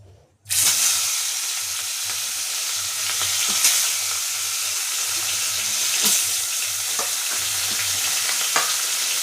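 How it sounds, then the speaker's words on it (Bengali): Catla fish fries in a pan, giving a loud, continuous close-up sizzle with occasional stirring scrapes and a low pulsing hum underneath. "মাছ ভাজা হয়ে গেছে"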